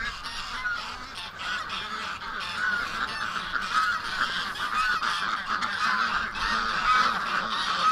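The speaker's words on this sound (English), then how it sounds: "Talk about a focused bunch of ducks." A flock of ducks gathered at a coop door honk and call continuously, a dense overlapping chorus of nasal honks at steady moderate loudness with no speech.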